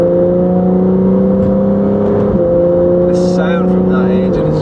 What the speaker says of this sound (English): sound from that engine is just fantastic